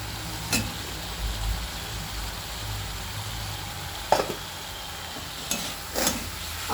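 Fried potatoes stirred into cooked spice paste in a pan for a fish curry with nigella seeds, giving a soft steady sizzle with a few sharp spoon scrapes and clinks, fairly quiet and close.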